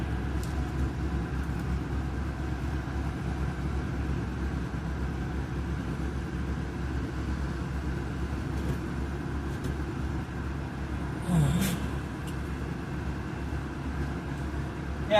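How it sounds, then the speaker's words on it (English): A Ford Zephyr MKIV V4 idles steadily with a blowing exhaust, a low continuous rumble at moderate distance, with a brief rustle near the end. "Exhaust are blowing, as you can hear."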